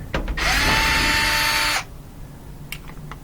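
Power drill backing out a single bolt on a Whirlpool washer, a loud steady whirring burst of about a second and a half, followed by faint clicks and handling noises.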